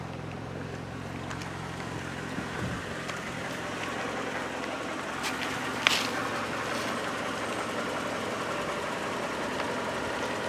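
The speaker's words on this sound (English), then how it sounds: "Here's the exhaust, by the way." Exhaust of a 2019 Toyota Camry LE at a quiet idle gives a steady low rumble with wind-like hiss and one brief knock partway through, and no talking.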